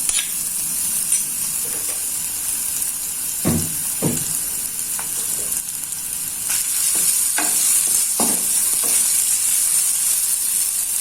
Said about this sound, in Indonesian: Untuk bumbunya ini saya tumis dulu